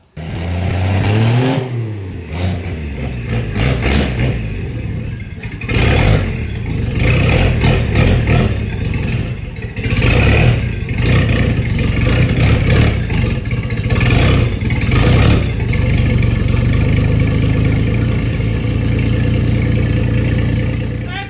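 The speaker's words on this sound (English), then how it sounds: "She runs, and not only does she run, Gavin, what does she do?" A repaired car engine fitted with a new fuel cell runs loud and close for about twenty seconds, rising in a quick rev early on, then holding a rough, steady roar with repeated throttle blips.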